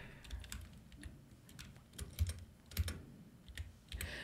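Close, quiet keystrokes on a computer keyboard as a shortcut name is typed, an irregular run of soft clicks with a few heavier taps, with no talking.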